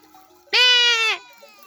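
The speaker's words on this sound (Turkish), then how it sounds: "Anasını kaybetmiş keçi sesi." A single loud, wavering goat bleat lasting about half a second, close by, from a goat that has lost its mother, with quiet surroundings before and after.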